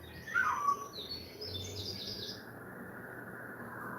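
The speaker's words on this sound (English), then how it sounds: "That is one bird that freaks me out" One bird gives a sharp, shrill call near the start, followed by a trailing high chirping that fades over a steady background hiss.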